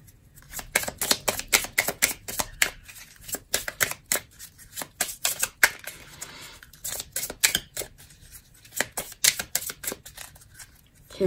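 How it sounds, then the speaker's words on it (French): Tarot cards shuffled back into the deck, a rapid run of crisp riffling clicks and flicks in quick bursts, close and fairly loud with no voices. "je remets les cartes dans le jeu"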